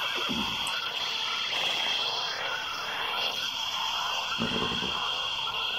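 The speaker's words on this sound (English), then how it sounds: "It's a really loud horse" A horse whinnies and neighs loudly several times in the Doom mod CountryCide, rising over a steady high-pitched ambient hiss near a dirt road ravine.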